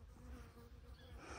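Honeybees buzz among sunlit roses in a home garden beside compost, a steady, close, continuous drone with no voices over it.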